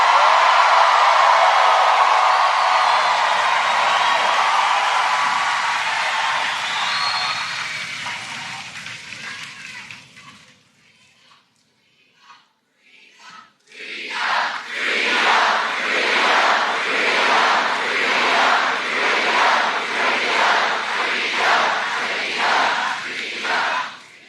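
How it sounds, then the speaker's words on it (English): A campaign rally crowd in Flint, Michigan, at a Harris event cheers and claps loudly, then the noise drops into a brief lull before rhythmic chanting and clapping swell up again in repeated pulses. "We got to clap for that."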